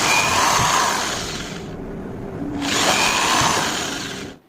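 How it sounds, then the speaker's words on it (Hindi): An electric drill bores a hole through a 1 by 3 inch piece of wood, whining loudly and steadily, dropping out briefly midway before spinning up again at full strength. "उनमें से एक टुकड़े पे इस प्रकार से हम छेद कर लेंगे ड्रिल मशीन के द्वारा।"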